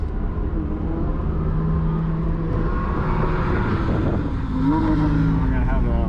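A Lamborghini Huracan Performante on a race track, its engine droning loud and close with a rising rev and gear-change shifts, steady throughout under faint talk.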